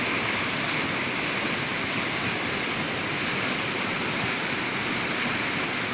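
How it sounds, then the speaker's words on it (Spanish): Rushing water of a swollen, flooded river roars steadily and loudly throughout, a dense unbroken wash with no voices. "Está bajando más agua."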